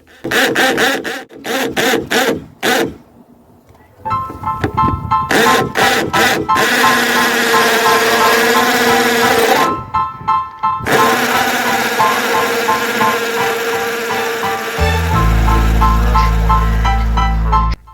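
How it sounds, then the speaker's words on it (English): A power drill whirs loudly in long, sustained bursts while boring a hole in a door for a lock, broken by short pauses and clicks, ending on a deep grinding tone. "so hubby can now start drilling"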